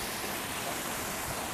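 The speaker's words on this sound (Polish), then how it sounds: "szum spadającej wody działa naprawdę relaksująco" Water from a waterfall in Krajno, in the Świętokrzyskie region, pours steadily in a dense, even rush of white noise, close and unbroken, with no voices over it.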